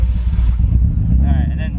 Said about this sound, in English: this thing revs